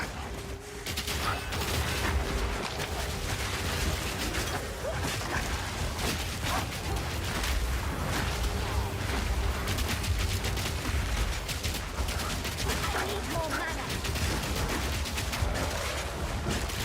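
Dense, continuous gunfire rattles through a StarCraft II team match, with rapid bursts and shots layered over one another at a steady loudness and little pause.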